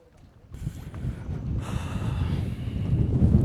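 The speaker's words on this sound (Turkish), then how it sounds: "Rüzgara bakar mısın ya?" Strong wind roars and buffets the microphone continuously during a fishing trip, growing louder toward the end, with a low rumbling rush throughout.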